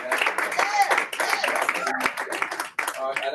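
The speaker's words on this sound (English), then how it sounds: "I want to extend a massive Afro-Latino applause for you" An audience at a roundtable event applauds, its clapping a dense, sustained patter that stays steady and fairly loud, with voices heard speaking underneath.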